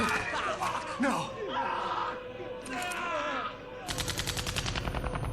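Rapid bursts of automatic gunfire erupt amid shouting and chaotic battle noise in the video game Final Fantasy XIII, ending in a fast, loud rattling volley of repeated shots.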